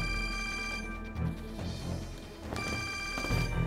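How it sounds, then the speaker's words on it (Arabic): A telephone rings in a TV drama scene, two bursts of electronic ringing separated by a short pause, fairly clear in a quiet room. "تليفون أبوك عم يرن."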